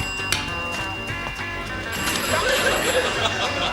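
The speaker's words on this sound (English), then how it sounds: "Somebody get that phone." A telephone ringing in a TV comedy sketch, a bright bell-like ring with repeated tones over a busy background of studio noise and music, moderately loud.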